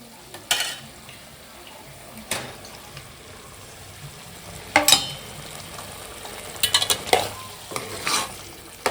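Chicken pieces are stirred into a simmering gravy in a home kitchen pan, with a low steady sizzle broken by several sharp scraping stirs, clustered near the middle and end.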